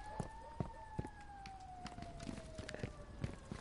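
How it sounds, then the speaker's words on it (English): A wailing siren with a slowly falling pitch sounds at a distance, accompanied by scattered soft thumps and clicks nearby. "Are those sirens in the game or is that outside my house?"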